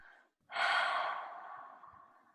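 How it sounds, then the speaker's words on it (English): One slow, deep breath, a short airy intake followed by a long, soft exhale that gradually fades, close and quiet with no talking. "taking a few deep breaths together even"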